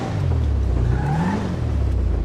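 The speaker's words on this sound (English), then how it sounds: "Do a little bit of a wheel spin." An Albany Virgo engine in GTA 5 Online revs hard with a rising whine as the tyres spin, loud and close, no voices.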